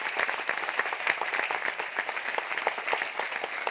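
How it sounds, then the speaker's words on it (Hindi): Loud, dense applause from a large audience at a motivational talk in Mumbai, many hands clapping steadily and continuously without pause. "जितने भी वीर और वीरांगनाएं एक बार अपने लिए जोरदार ताली बजा दो।"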